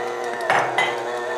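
An electric mixer churns thick chocolate chip cookie dough, its motor straining and bogging down: a steady close whirring hum broken by two brief louder knocking surges, with no talk.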